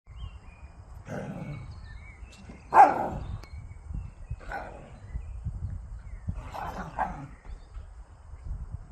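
Sharp, excited barks and yips from a whippet at play, close range, coming in scattered bursts over a low rumble of background noise.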